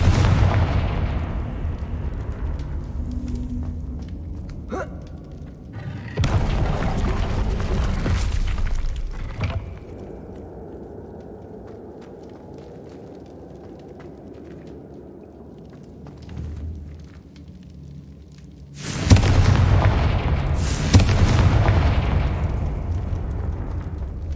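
Confringo blasting spell explosions in Hogwarts Legacy: several heavy booming blasts, one early and a loud pair near the end, each rumbling and decaying, separated by quieter stretches of low ambient noise.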